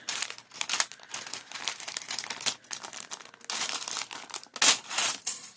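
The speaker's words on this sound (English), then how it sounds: "Sorry about the crinkling." Plastic packaging holding craft dies crinkles and crackles in repeated bursts as it is opened, close and fairly loud with no talk.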